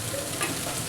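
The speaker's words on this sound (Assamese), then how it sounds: "কি ভাজি এইটো? দাংগুটি, ভাতকেৰেলা আৰু আলু। বেঙেনাও আছে।" Ridge gourd, bitter gourd, potato and eggplant sizzle steadily in hot oil in an Assamese kitchen, a close, continuous frying hiss with a faint stirring scrape.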